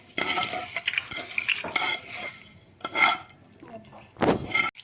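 A spoon stirs a hot tempering of curry leaves into gongura and ripe red chilli chutney, making irregular scraping and clinking strokes against the vessel with a faint background sizzle, close and fairly quiet.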